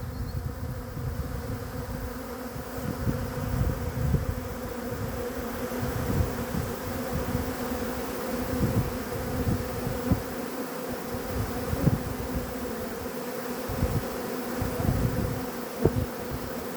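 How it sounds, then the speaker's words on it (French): A dense, continuous buzzing of many bees near beehives fills the air close by, with individual insects droning louder as they pass near. "Il y a quand même pas mal d'abeilles qui volent parce que les ruches d'à côté sont très près"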